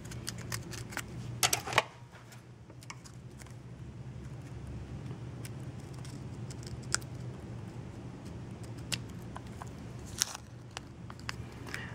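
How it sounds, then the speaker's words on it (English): Scissors cut away a red paper rectangle for a homemade battery tester, giving close, crisp snips and crunches: a quick burst early on, scattered clicks through the middle and another cluster near the end over a faint steady hum. "instead I'm going to switch to scissors. And basically you want to cut away this red rectangle."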